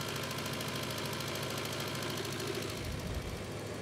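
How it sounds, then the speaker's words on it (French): Small four-cylinder gas-fueled engines run inside a biogas plant, a loud, dense, steady mechanical drone with rapid knocking pulses throughout. "Ce sont des petits moteurs 4 cylindres."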